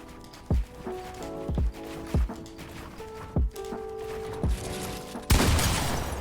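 Several sharp gunshots in an FPS video game, spaced a fraction of a second to a second apart with ringing tails, followed by a sudden loud burst of noise at the end.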